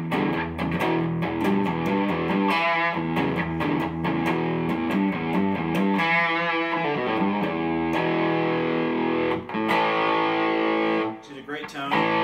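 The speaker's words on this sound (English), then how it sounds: "Here's a little distortion." A Jonah Guitars Gecko 9-string guitar played through distortion rings out in loud, thick overdriven chords and sustained notes, strummed in bursts with ringing decays, alone and up close.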